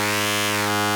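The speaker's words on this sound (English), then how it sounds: "For oscillator A, I'll load an FM wavetable that I've created from my virus" A gritty FM wavetable tone from an oscillator in Serum 2, with the wavetable built from Virus synth material, holds one steady harmonic-rich note for about a second before cutting off, loud and alone.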